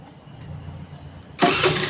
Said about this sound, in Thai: เนี่ย เห็นไหมครับ สตาร์ทก็ติดเหมือนเดิม